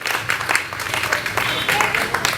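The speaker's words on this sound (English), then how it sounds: "Yeah, big clap for everybody." An audience at a Christmas carol gathering claps in a burst of applause, dense and fairly close, with some voices mixed in under the clapping.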